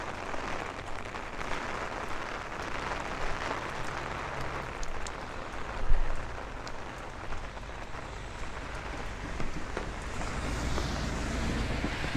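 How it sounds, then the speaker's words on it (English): Heavy rain pours steadily onto a city street at night during a thunderstorm walk in Bay Ridge, Brooklyn, a dense unbroken hiss close around the listener with occasional louder splashes and faint passing traffic underneath. "it is starting to really rain now"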